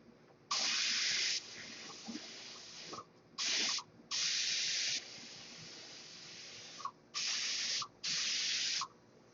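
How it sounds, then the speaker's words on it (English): Bursts of paint spray gun hissing at about 15 psi, five sharp blasts of a few seconds each with short pauses between, close and loud over a faint background hum. "I'm spraying at about 15 pounds pressure."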